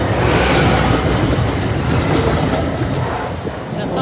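A second train rolls past the Lincoln High Street level crossing loudly and close, with a dense roar and rumbling wheel noise that eases slightly toward the end.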